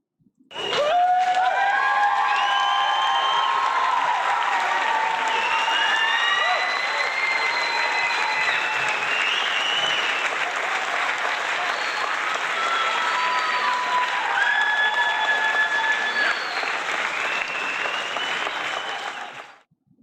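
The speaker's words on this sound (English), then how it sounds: "that huge cheer" A crowd cheers and applauds continuously for about twenty seconds during an online chess class on pawn endings for students under 1400, a loud, dense roar mixed with shouts and whistles that starts abruptly and stops abruptly.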